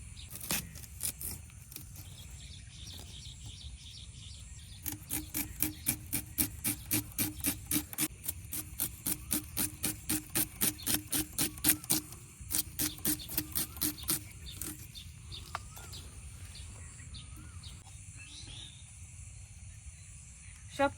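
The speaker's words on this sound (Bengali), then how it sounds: "এই আমগুলো আমি বটা সহ কাটছি" Green mangoes are cut with their stalks on for a sour curry, giving a long run of quick, regular chopping knocks with pauses, faint and close against a quiet outdoor background.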